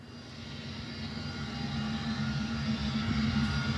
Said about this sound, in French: Avion puissance à décoller